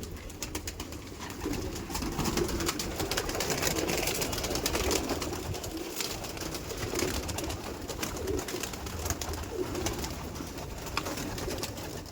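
Pigeons coo continuously inside a loft, a soft, low, layered murmur of many birds close by with no talk over it.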